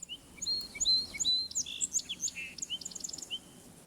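A sparrow sings from tall grass near a pond, its bright trills and chirps repeating in quick phrases close by, with no voices over the song.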